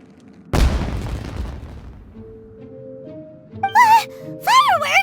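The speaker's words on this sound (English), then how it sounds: "It sounded like fireworks." Fireworks burst in Genshin Impact with a loud booming blast, followed by a crackling, fading rumble and game music, then bright whistling or voice-like tones near the end.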